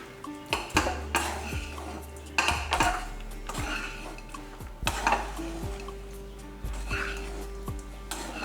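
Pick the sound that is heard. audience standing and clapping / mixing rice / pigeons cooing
mixing rice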